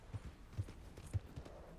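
Horse hooves clip-clop at a walk in Red Dead Redemption 2, four soft low thuds spaced unevenly over a couple of seconds, faint and close against a quiet outdoor backdrop.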